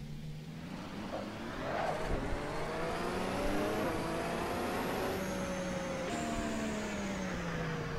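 A Ferrari SF15T Formula 1 car in Assetto Corsa, pulling out of the tight pit exit at the Red Bull Ring under heavy throttle. A loud, steady engine drone with whining harmonics slowly climbs and dips in pitch, close and continuous, with no talking.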